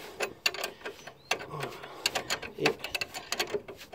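A 17 mm wrench tightens a nylon-insert lock nut on a car's stabilizer bar link, making close, uneven metallic clicks and scrapes with short pauses, and a voice speaks briefly.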